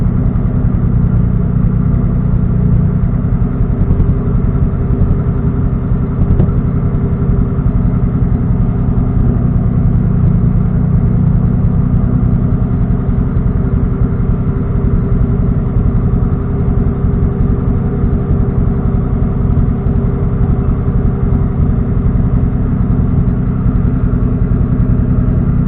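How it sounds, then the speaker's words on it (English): Car engine idling steadily on its first start while being tuned, a continuous close, loud low rumble that holds even for the whole stretch with no speech over it. "as soon as you hear something backfired and while it's idling, she needs a little bit more gas."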